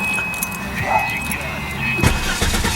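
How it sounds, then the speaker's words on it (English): A 1995 Volvo 850 heard up close: a light jangle of keys first, then the engine cranks and catches about two seconds in, settling into a rough idle. "I'm going to start this car up for you."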